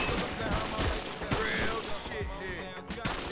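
Gunfire from the 50 Cent: Bulletproof video game, a dense, continuous spray of shots and explosive cracks filling the mix at steady loudness, with a voice talking faintly underneath.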